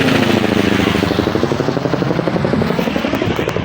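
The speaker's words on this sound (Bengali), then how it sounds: "কিন্তু একটা হেলিকপ্টার চলেছে" A helicopter drones loudly and continuously, its rotor thumping in a fast steady rhythm close overhead.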